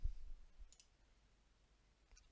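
A single mouse click on an OK button in PixInsight astrophotography software, faint and brief, followed by a second soft click near the end, otherwise near silence.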